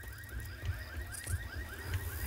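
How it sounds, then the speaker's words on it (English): A car alarm in the video game Left 4 Dead 2 wails with repeated rising electronic sweeps in a steady rhythm, fairly quiet and continuous, with no talk over it. "The car alarm went off and I didn't even touch it."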